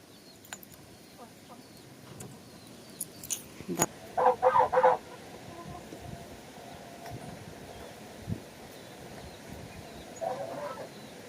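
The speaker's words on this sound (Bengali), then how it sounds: "তারপরে দেখতেছি মুরগিটা খালি চেঁচাচ্ছে" A chicken squawks in a short burst of loud, repeated cries, with a few fainter clucks before and after over a quiet background.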